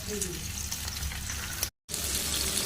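Fish frying in a pan, a steady broadband sizzle and crackle of hot oil continuing throughout, briefly cut to silence near the end before resuming.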